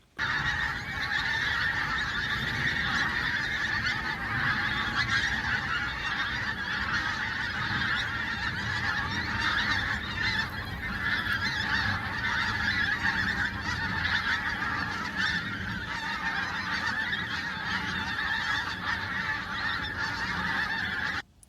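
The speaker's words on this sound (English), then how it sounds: "they're generally quite a bulky goose" Flock of geese honking continuously on a Norfolk coastal marsh, bulky geese with pink legs and bills, a dense overlapping chorus of calls at steady loudness throughout with no talk.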